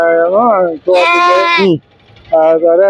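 Goats bleat loudly and up close at the Melapalayam goat market, three long wavering cries separated by a short quiet gap, with no talk over them.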